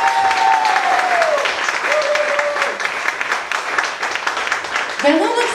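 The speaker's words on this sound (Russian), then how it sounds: "Поэтому я попрошу, поддержите аплодисменты." Audience applause at a La Rouge show-ballet performance during a seminar for event hosts, a dense, loud clapping that runs steadily throughout with a few high tonal sweeps over it.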